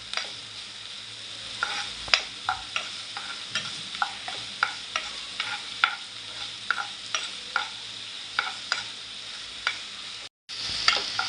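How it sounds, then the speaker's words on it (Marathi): Onions fry in a pan for egg bhurji, a steady low sizzle broken by regular scraping strokes of a spatula, each a sharp scrape repeated about once a second, close and alone without talk. "लालसर होईपर्यंत आपल्याला व्यवस्थित परतून घ्यायचं कांदा"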